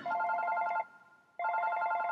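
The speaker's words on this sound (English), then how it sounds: "Oh, wait, that's my phone." A phone rings in the video game Super Paper Mario: two loud, bright electronic ring bursts separated by a brief pause, with no talking.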